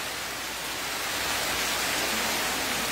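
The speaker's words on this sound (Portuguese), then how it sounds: "É muita chuva caindo, muita água descendo." Heavy rain pours steadily in Senador Sá, Ceará, a dense, loud, unbroken hiss of water falling and running off, with no voices over it.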